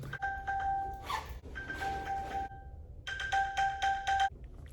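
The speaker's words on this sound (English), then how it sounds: "An alarm, a ringtone was going off in their backpack." A phone ringtone alert goes off inside a backpack left in a room, repeated bright two-tone chiming bursts separated by brief gaps, clear and fairly close with no talk.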